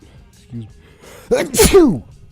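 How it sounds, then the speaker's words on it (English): One loud, close sneeze with a short, quiet intake of breath just before it. "I'm starting off sneezing"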